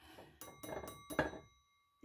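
A broken Clase Azul tequila bottle struck so it rings like a bell: three or four quick bright strikes with sustained metallic-glassy overtones that fade out, fairly quiet and close, with no talking.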